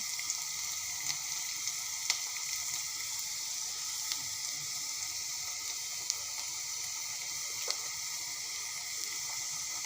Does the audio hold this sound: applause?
no